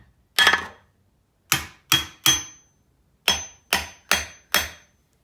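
Seven sharp metallic hammer strikes on stuck parts during a 430 MEL engine teardown, close by, one isolated then a quick group of three and a steady group of four, each ringing briefly.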